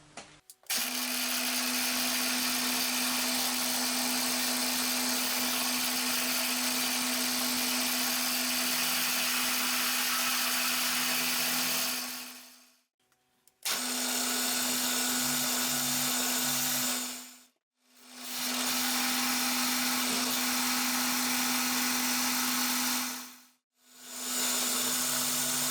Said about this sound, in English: we're just going to touch off and mill a small flat on the top face